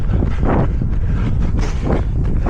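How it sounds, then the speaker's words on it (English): Steady, heavy wind buffeting the microphone on a run around a park loop, a constant low roar with gusty surges and no voices. "It's very bloody windy on this side of my park loop"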